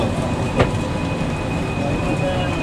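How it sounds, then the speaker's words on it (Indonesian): Inside a crowded LRT train carriage in Kuala Lumpur, a loud steady rumble of rolling wheels and motor drone fills the space, with a faint high whine and one brief clack partway through. "Inilah suasana di dalam LRT"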